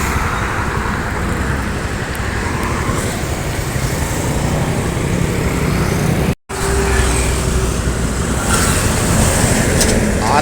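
An Udo Gadang bus passes along Jalan Soekarno-Hatta in Palembang amid continuous broadband road traffic roar, loud and steady, with a brief dropout midway.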